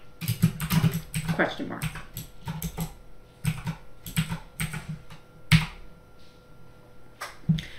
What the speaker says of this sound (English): Wow, can't type.